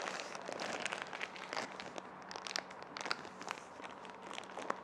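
Close, quiet crinkling of a thin plastic comic book bag, a busy stream of small crackles and rustles as it is handled.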